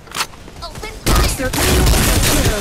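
Gunfire in the mobile battle-royale shooter Farlight 84: scattered shots with game voice lines, then from about a second in a dense, loud, sustained burst of rapid automatic fire and impacts.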